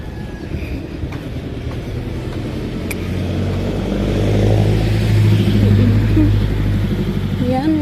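Steady highway traffic passing close by, a continuous engine rumble and tyre roar that swells louder midway as vehicles go past, with no talking.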